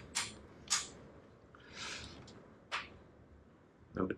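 Sharp, brief cracks while a bolt is torqued to 112 newton meters into a 12mm tapped engine block, a few isolated snaps with quiet gaps between them.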